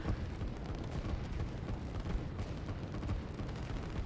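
Artillery pieces firing in the real-time strategy video game Line War: low, rumbling booms and bursts blending into a constant murky barrage, fairly quiet and without speech.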